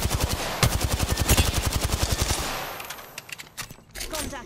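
Rapid automatic gunfire rattles in steady bursts during an Apex Legends match, loud and close for about three seconds before thinning into scattered shots and fading clatter.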